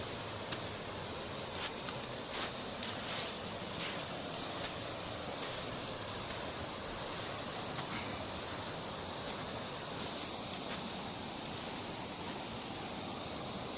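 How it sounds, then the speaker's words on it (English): Steady broadband rush of the Ozaegawa River flowing through Yasaka Gorge, a continuous close wash of water with no talk and a few faint clicks on top. "This is this part of the river is called Yasaka Kyo or Yasaka Gorge"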